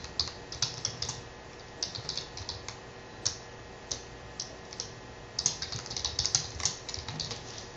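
Computer keyboard typing while entering Java code, a steady run of quick, light key clicks in uneven bursts with short pauses, close and fairly quiet, no talking.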